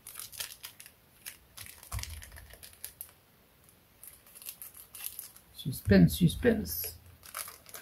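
Foil trading card packs torn open and crinkled, a burst of crackling rips and crumpling close by near the end, with a voice speaking over the earlier part.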